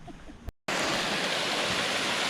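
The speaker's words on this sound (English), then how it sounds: "We're at the top of the waterfall right now. Peanut Leap Waterfall." Peanut Leap Waterfall at the Palisades gives off a loud, steady broadband rush of falling water, heard close from the top of the falls, with a brief cut near the start and no talking.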